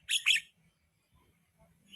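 A jalak, a starling or myna, gives two quick, bright chirps close by, followed by near silence with only faint low background noise.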